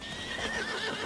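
A horse in the video game Crimson Desert gives a short, loud whinny that lasts about a second and is heard on its own.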